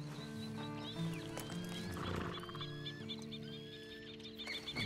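A horse in the Red Dead Redemption 2 video game gives soft hoof clops and a faint whinny amid a quiet outdoor game ambience with birds and rooster-like calls, fairly low and distant.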